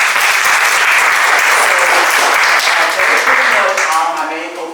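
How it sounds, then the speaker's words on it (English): Loud, sustained applause from an audience at a Black Excellence celebration, dense clapping filling nearly five seconds and tapering slightly at the end. "Let's clap it up for them."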